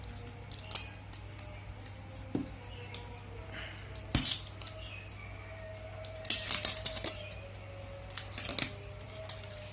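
Opening the sealed cells of a new GS GTZ5S motorcycle battery, laid flat on a surface, gives scattered close plastic clicks and crinkly snaps, with a few sharper bursts near the middle and end over a low steady hum.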